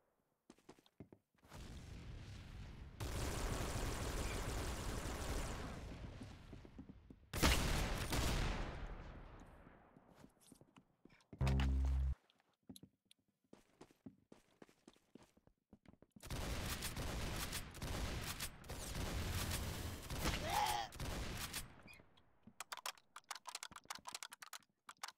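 Gunfire in a Roblox shooter: long bursts of rapid, clattering automatic fire split by pauses and a few short single shots, close and fairly loud, with no voices.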